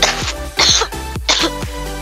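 A person coughs four times in quick succession, harsh and close, each burst short and roughly evenly spaced during a mobile game session.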